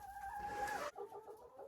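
A hen in a winter chicken coop, wearing a protective fabric saddle over a bald back, gives a sustained tonal call and then a short run of soft, close clucks.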